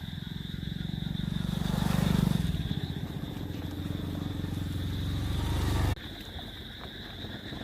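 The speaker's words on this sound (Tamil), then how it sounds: "இதே மாதிரி தான் டோ பண்ணி நம்ம ஒரு 10 கிலோமீட்டர் டோ பண்ணி வந்தாச்சு." A motorbike engine drones steadily while towing an Ola S1 Pro electric scooter with a broken belt along a road, loud and close with wind rush, rising briefly then cutting lower near the end.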